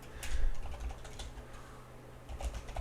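Quick, light keystrokes on a computer keyboard while Java code is typed, a close, steady patter of clicks with a brief pause midway.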